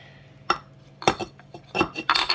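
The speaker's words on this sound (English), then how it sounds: "Lay the stones in on top of the" Rinsed weighting stones are laid into a sauerkraut crock on top of cabbage leaves. A handful of sharp, close clinks and clacks come in quick irregular bursts against a quiet background.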